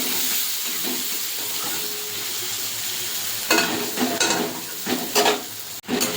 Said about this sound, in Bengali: পেঁয়াজ আর টমেটোটা এরকম ভাজা হয়ে গেছে।